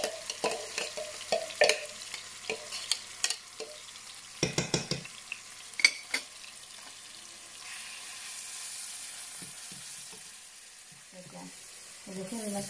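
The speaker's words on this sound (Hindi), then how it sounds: "ऐसे इसको हम 5 से 6 मिनट के लिए प्याज को फ्राई करेंगे।" Onions frying in a pan for a chicken karahi, stirred with sharp spoon clatters and scrapes over a steady soft sizzle that grows into a hiss toward the end.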